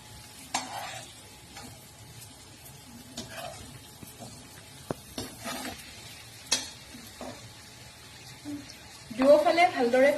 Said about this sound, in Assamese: দুয়োফালে ভালদৰে ভাজি ল'ব।